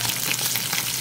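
Fish sizzles in hot oil in a frying pan, a dense, steady crackle and hiss with faint pops, close and continuous, with no voices.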